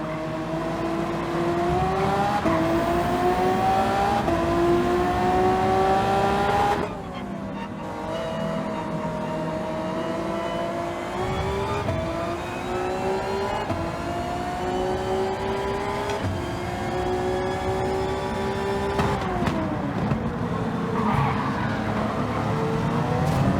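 Race cars in a racing video game on the Grand Valley track roar loudly through a first-turn crash, engines revving and dropping through gear changes, with a brief drop and skid as cars spin.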